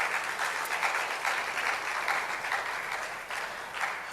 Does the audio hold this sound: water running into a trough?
no